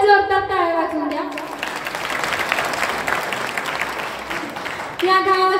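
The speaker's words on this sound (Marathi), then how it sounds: "तुम्ही आता जोरदार टाळ्या वाजवून द्या" A village audience at a Shiv Jayanti lecture applauds with sustained, loud clapping for about three and a half seconds, framed by a woman's amplified speech before and after.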